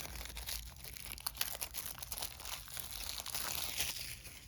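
Plastic wrap being pulled off mini card decks from the Zombicide: Undead Alive board game, a steady run of close crinkling and crunching over several seconds with no talking.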